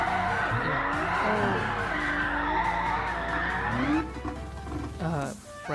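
Nissan Concept 2020 VGT in Gran Turismo Sport skids out of control, a loud sustained tire squeal over the engine drone that breaks off into shorter squeals, with a voice talking over it.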